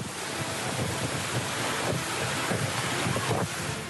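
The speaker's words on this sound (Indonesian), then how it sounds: "Angin kencang disertai hujan deras dengan begitu cepat menerbangkan atap bangunan para pedagang di Pujasera" Strong storm wind roars steadily with heavy rain, buffeting the microphone as it tears at market stall roofs near a boat harbour in Kuala Kampar, Pelalawan, Riau; a dense, continuous rushing wash with gusty swells and no voices.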